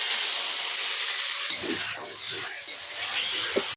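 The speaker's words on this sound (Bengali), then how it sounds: "তেল গরম হয়ে গেছে কড়াইতে তেজপাতা শুকনো লঙ্কা দিয়ে দেবো এবার দিয়ে দেবো বেটে রাখা মশলা" A loud, steady hiss of hot oil with bay leaves and dried chillies, then a crackling sizzle as wet ground spice paste hits the oil.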